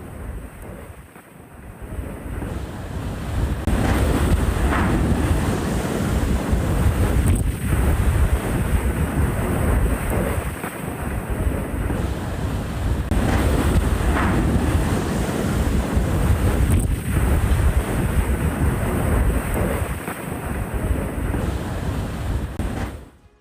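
Strong wind buffets the microphone over the roar of ocean waves, a loud, continuous rush with periodic swells and no voices.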